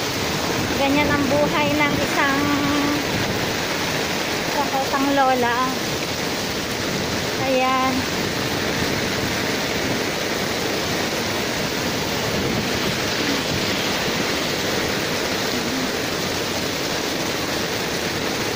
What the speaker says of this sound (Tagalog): malakas ang ulan, nakakaawa